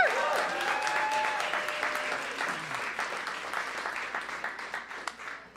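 Audience applause for John McWhorter at a live House of SpeakEasy evening show, a dense sustained round of clapping from a full room with a few whoops, continuing steadily throughout.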